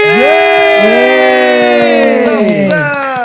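A crowd at a music show cheers loudly for the band, with high shouts and whoops layered into a close, sustained roar that fades slightly toward the end.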